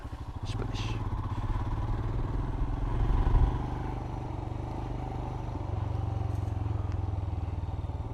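Royal Enfield Himalayan motorcycle with a 21-inch front tire rumbling steadily through water-filled potholes, engine thumping close with a brief surge midway; a rider talks intermittently.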